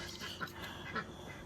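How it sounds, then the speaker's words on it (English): Scattered faint quacks from birds near a coop at dusk, a few soft calls spread over a low background hiss, distant and quiet with no talking. "get all these birds in the coop for the night"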